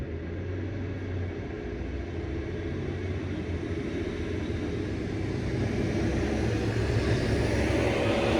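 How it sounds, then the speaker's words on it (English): A loud truck passes outside in the early morning hours, a sustained low, broadband rumble that swells gradually louder toward the end, with no talking over it. "Oh my goodness, another loud truck."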